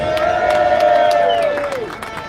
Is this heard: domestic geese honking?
no